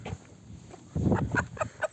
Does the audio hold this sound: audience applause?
no